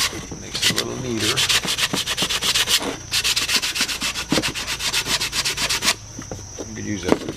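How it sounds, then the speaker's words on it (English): Hand sanding of a wooden roof piece for an outdoor shed speaker: steady, close back-and-forth rasping strokes in repeated bursts, with brief pauses between runs and no talking. "random orbit sand or hand sand, whatever"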